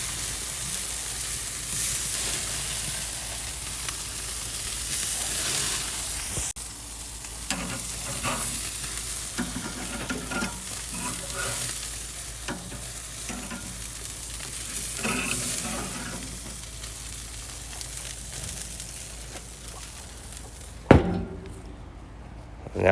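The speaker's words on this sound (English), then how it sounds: "I'm gonna let these lamb burgers cook for another minute or so" Lamb and bison burgers cooking on a grill, a continuous broad sizzle with intermittent scraping and tapping from a utensil, a brief knock near the end and a faint voice now and then.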